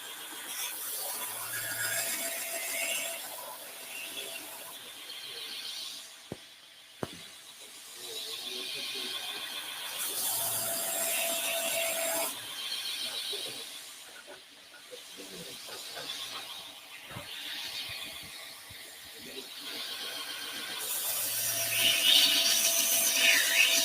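A powered grinder works a knife blade at a knifemakers' hammer-in, a continuous harsh hiss with recurring brighter grinding passes and small clicks across the stretch, with no voices.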